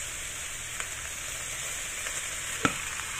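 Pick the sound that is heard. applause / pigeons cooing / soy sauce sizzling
soy sauce sizzling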